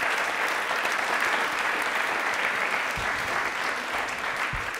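Sustained, loud audience applause in a television quiz show studio, a thick wash of clapping that holds steady from start to finish.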